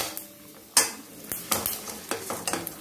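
Ingredients for tamarind pulihora frying in hot oil, a soft sizzle broken by repeated stirring scrapes and spoon clinks against the pan in an uneven rhythm.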